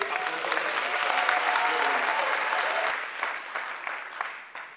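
A crowd at an opposition party convention applauds Jean-Félix Senga with full, dense clapping that holds strong for about three seconds, then thins into scattered claps.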